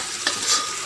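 Spice masala being stir-fried in a pan, a brief close hissing sizzle with a soft stirring scrape, under a second long and without any voice.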